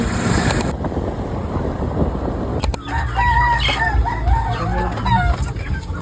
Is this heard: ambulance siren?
no